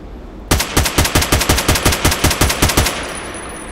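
AK-12 assault rifle in the Contract Wars video game firing one fast, steady automatic burst of about twenty loud, close shots lasting roughly two and a half seconds, then a brief fading tail.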